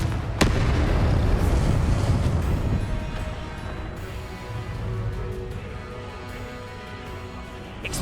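Confringo blasting spells explode in Hogwarts Legacy combat, a heavy burst at the start followed by a continuous rumbling roar of blasts and crackling debris that slowly fades, with scattered sharper pops layered in.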